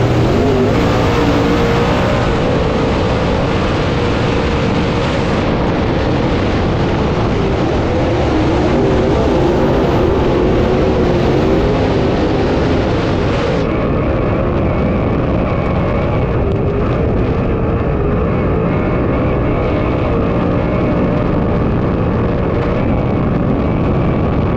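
Dirt late model race cars roaring continuously at Eldora during a heat race, a loud, dense engine drone that holds throughout with no pauses.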